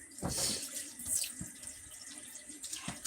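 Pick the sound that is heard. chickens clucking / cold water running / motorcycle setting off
cold water running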